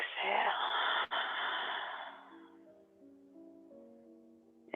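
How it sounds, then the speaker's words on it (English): A big, slow, deep exhale during a gentle prenatal sleep yoga flow, a breathy rush of air that fades out over a couple of seconds, followed by soft background tones. "Big exhale."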